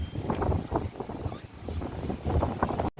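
Strong wind at a mangrove conservation site in Baros, Bantul, Yogyakarta, buffeting the microphone in loud repeated gusts and rumbles throughout.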